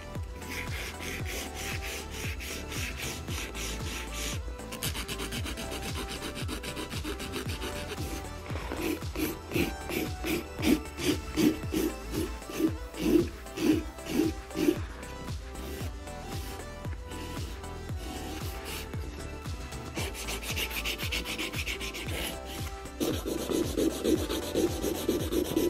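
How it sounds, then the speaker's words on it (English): A hand file rasps back and forth across acrylic nail sidewalls in quick, close, rhythmic strokes, with short pauses between sets of strokes. "Once I've debulked, I'm going to hand file the sidewalls"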